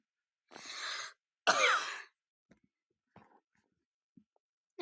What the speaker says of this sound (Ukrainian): Я трошки кашляю.